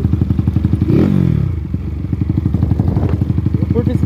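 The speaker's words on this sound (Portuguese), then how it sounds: "Eu curto esse escape desse jeito" A Honda Titan motorcycle engine blips up in a quick rev through its exhaust, then settles back into a rapid, loud, close putter of regular low pulses.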